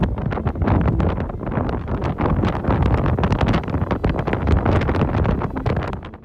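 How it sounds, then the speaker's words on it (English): Strong gusts batter a beach, a loud, continuous roar of wind buffeting the microphone with a rapid fluttering rumble and no let-up, and no voices. "sending everyone scrambling to turn their backs on the relentless gusts"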